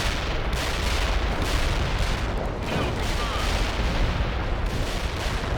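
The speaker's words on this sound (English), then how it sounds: "Artillery barrage through the target area into dust." Artillery barrage pounding a target area in the World in Conflict game, a dense continuous roar of blasts and rumbling impacts at steady loudness, with faint voices in the mix.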